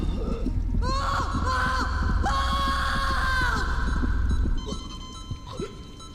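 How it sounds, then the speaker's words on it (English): Screaming in the sci-fi horror game STASIS: distorted, wavering wails that rise and bend over a heavy low drone, fairly loud and eerie, with no talking. "I heard screaming"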